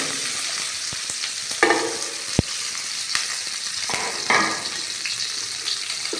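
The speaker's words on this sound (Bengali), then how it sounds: "প্রথমে তেল দিলাম এরপর হচ্ছে মরিচ পেঁয়াজ এগুলো দেওয়া হলো" Green chilies and onions frying in hot oil while cooking dal at home, a steady close sizzle with stirring scrapes and a few clacks of a utensil, with no voices.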